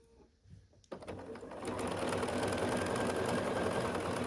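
A sewing machine quilting across a rainbow-stitched whole cloth baby quilt, starting with a few stops and then running in a steady, close, even whir.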